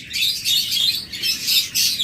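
Pet birds for sale at a bird seller's shop chirp in quick, bright bursts, several high calls close by in two clusters.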